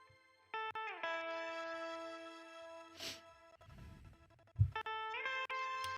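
Sustained pop-style synth beat tones ring out with a spacious reverberant tail, broken by a soft noisy burst and a low thump before the chords return.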